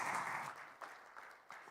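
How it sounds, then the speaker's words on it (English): Audience applause at a marine cargo insurance forum, a dense burst of clapping that gradually thins out, with a few scattered louder claps near the end. "Let's keep clapping for him."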